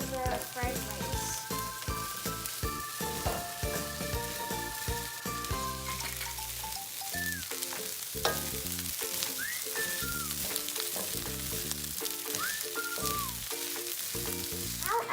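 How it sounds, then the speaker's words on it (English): Fried rice with green beans and carrots sizzles steadily in a pan as it is stirred, a constant frying hiss under loud tonal background music throughout, with no talk. "Remember to constantly stir the fried rice."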